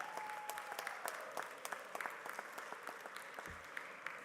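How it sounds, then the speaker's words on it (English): Applause from a robotics competition audience at a FIRST Tech Challenge event in New York City, moderate and somewhat distant, with scattered distinct claps and a thin crowd murmur underneath. "So let's give them a round of applause,"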